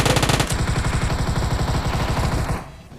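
Rapid automatic UZI fire in PUBG Mobile, a loud close burst of dense, evenly spaced shots rattling continuously for about two and a half seconds before cutting off.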